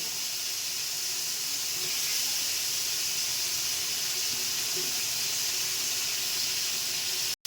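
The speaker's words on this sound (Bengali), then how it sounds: "কচু সুন্দর করে আগে কষিয়ে নেব" Taro pieces are sautéed with spices in a pan, giving a continuous close hissing sizzle like steam that holds steady before cutting off abruptly.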